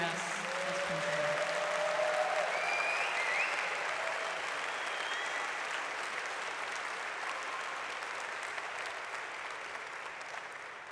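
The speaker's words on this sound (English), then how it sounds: "So please give him a round of applause for his final address as principal." A graduation ceremony crowd gives sustained applause for a principal's final address, a broad, steady roar of clapping that fills the hall and slowly eases, with faint whistles or cheers mixed in.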